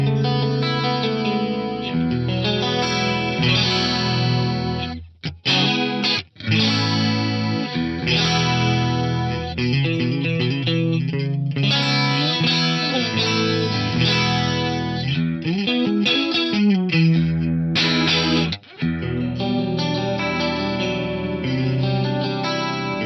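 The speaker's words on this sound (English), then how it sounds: "add a little bit of modulation. So I'm gonna bring the depth up quite a bit and keep the rate nice and low." Clean electric guitar runs through an Eventide MicroPitch delay with deep, slow modulation. Shimmering, chorused arpeggios and chords repeat with lush echoes, played continuously and fairly loud with no talking.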